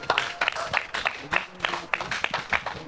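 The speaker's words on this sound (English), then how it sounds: "Big round of applause to our panelists, please." Steady applause from a crowd for a panel of speakers, many hands clapping at once throughout, fairly close and continuous.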